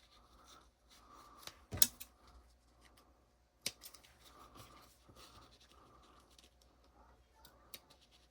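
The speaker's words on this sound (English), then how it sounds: "I'm just going to use my scissors and try to cut as straight a line as possible." Scissors snip through fabric in a steady series of soft cuts, close and quiet, with a couple of sharper clicks along the way.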